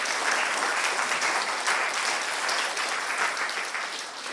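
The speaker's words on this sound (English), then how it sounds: "Let's give a clap to the 17 years" An audience bursts into sustained applause, many hands clapping in a thick, even roar that tapers a little toward the end.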